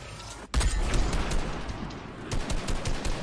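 Fortnite gunfire rattles in rapid, loud automatic bursts after a brief quieter moment, continuing as a dense barrage of shots with no talk over it.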